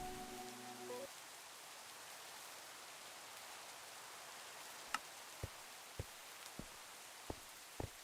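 Steady broadband hiss of Minecraft rain falls continuously, faint and even, with a few sharp ticks near the end and a brief tonal hum at the start.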